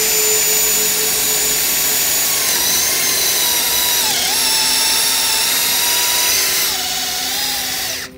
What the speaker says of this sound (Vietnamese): rút mũi khoan ra để loại bỏ dăm, rồi tiếp tục khoan